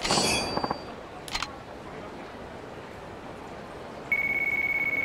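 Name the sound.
phone ringing in the video game Yakuza 3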